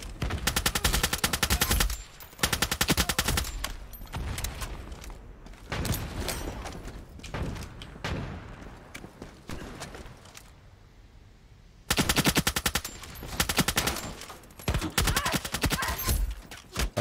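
Rapid bursts of automatic gunfire from the Ironsight online shooter game, loud and close, with dense volleys at the start and end separated by a quieter stretch of scattered shots and lull.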